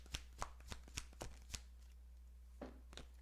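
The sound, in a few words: shuffling and drawing cards from a deck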